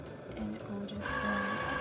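A Cricut cutting machine powers on and runs at close range, giving a steady mechanical whir with rhythmic motor tones that rise to a brighter, sustained hum partway through; no one speaks.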